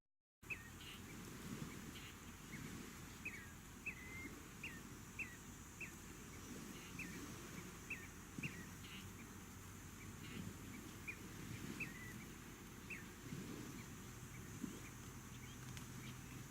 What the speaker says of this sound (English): Just hearing the waves crashing on the beach and the birds.